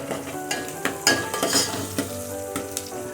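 Chopped onion with curry leaves sizzles and fries in a pan for vegetable pulao, with a steady hiss broken by several scraping stirs and light clinks of a spatula against the pan, close and fairly loud.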